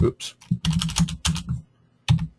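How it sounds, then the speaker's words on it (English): Bursts of rapid typing on a computer keyboard, close and clicky, in short runs separated by pauses, with a brief spoken word partway through. "I want to capture somebody typing in"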